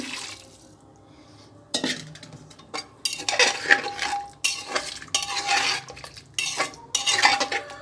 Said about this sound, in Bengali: গরম পানি দিচ্ছি